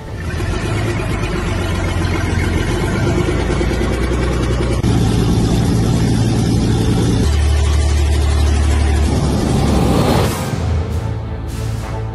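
A battered old zombie truck's engine runs loudly and continuously, a rough mid-low rumble that shifts pitch as the throttle changes and then drops away at the end.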